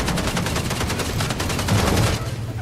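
Rapid bursts of gunfire crackle continuously, dense and loud, automatic weapons firing in Fortnite, with no talking.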